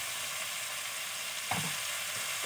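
Vegetables frying in a pan with a steady, close hiss of sizzling oil and one brief stir partway through, with no voices.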